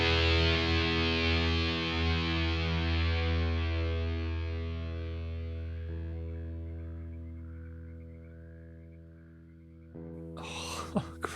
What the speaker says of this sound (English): Heavy distortion on the guitar right now.